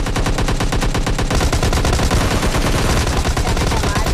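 Rapid automatic gunfire rattles in PUBG Mobile Lite, loud and close, with fast regular bursts that blur into a continuous barrage toward the end.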